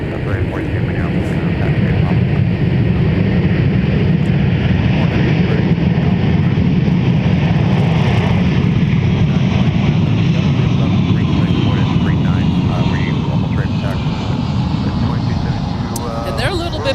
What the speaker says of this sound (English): 165 heavy from Amsterdam, former Northwest A330